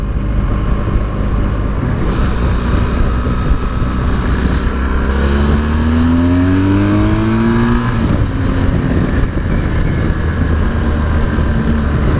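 A BMW R1200GS Rallye motorcycle accelerates hard past traffic, its engine note climbing through rising pitch sweeps over steady wind and road roar, loud and close for the whole stretch.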